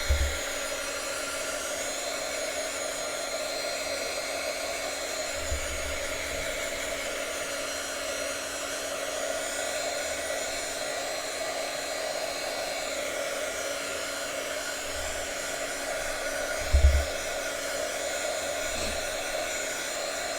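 A hair dryer blows steadily and evenly for about twenty seconds, drying thick acrylic molding paste on an art journal page. There is only the occasional faint bump or handling noise and no speech.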